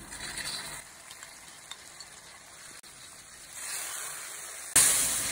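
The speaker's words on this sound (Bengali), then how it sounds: "মশলাটাকে কষাই নিব।" Turmeric, chili, ginger and garlic spice paste with softened onion frying in oil, a steady sizzling hiss throughout that swells louder toward the end, with no talking.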